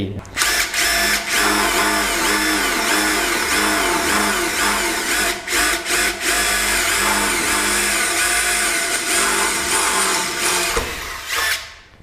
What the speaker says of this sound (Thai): เดี๋ยวลองเจาะกันที่ตัวเหล็กบางก่อนนะครับ